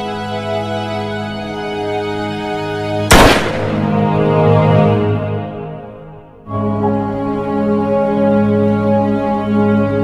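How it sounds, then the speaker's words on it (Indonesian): A single loud gunshot cracks out sharply in a revenge action film scene, its ringing decay fading over a few seconds while steady background music plays before and after. "si Ujang langsung aja menembak Jie."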